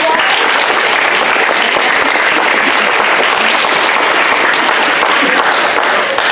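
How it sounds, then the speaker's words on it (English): Audience applause for the helpers at a Wizard of Oz stage production, a steady dense wash of many hands clapping throughout, loud and continuous with no talk. "So go ahead and give them a round of applause"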